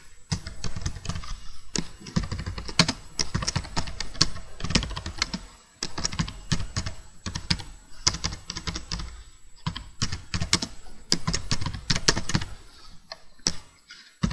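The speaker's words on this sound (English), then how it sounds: "So it will be better if I'll type here a header of my particular program." Rapid, uneven clatter of keys on a computer keyboard while a program header is typed, close and clear, in bursts of keystrokes separated by brief pauses, with no voices.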